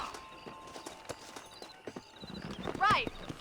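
Horse hooves clip-clop at a walking pace in Red Dead Redemption 2, a steady run of soft thuds under background chatter, ending with a loud horse whinny near the end.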